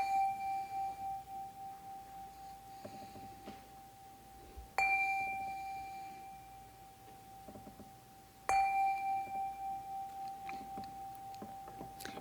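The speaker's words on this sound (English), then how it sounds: "let us settle our minds and enter this moment with the ringing of the chime" A meditation chime is struck three times in a quiet room, each clear ring sustaining and slowly fading before the next strike.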